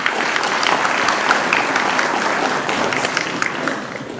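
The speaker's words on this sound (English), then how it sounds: "Can we have a round of applause" Sustained applause from an energy and infrastructure conference audience, a dense, even patter of many hands clapping without pause for several seconds.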